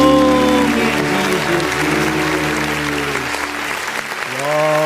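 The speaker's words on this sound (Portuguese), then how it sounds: "E as palmas engrandecem o nome de" A church congregation applauds during a worship service, steady clapping under sustained music tones and possible voices, close and fairly loud throughout.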